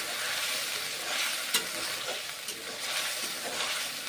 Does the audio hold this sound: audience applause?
no